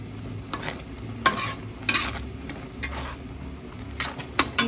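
A blended paste of chili, shallot, garlic and ginger sizzles in a pan while being stirred, steady frying crackle with scraping spoon strokes and occasional sharper clinks, close up.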